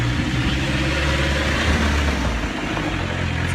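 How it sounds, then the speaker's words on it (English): Noisy tractor driving past outdoors, a continuous low engine rumble with a steady throbbing drone that holds loud and near for several seconds, with no voices. "Sorry, just letting a noisy tractor go past there."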